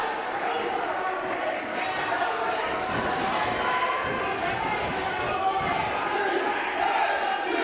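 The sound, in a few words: wrestling crowd cheering to motivate Teddy King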